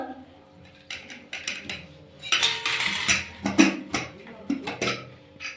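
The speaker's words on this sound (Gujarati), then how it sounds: "તો હવે આપણે ખોલીએ કુકર" Metal plates and spoons clatter and clink in irregular bursts as a pressure cooker of Maggi noodles is opened, the sharp knocks close and fairly loud against a quiet indoor background.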